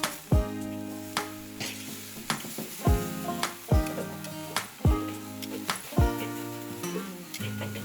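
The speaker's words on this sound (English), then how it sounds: "We're going to go ahead and sear these off now." Steaks searing over a charcoal grill, crackling sizzle broken by repeated sharp taps and knocks of tongs, with brief flare-ups roughly every second or so, close and fairly loud.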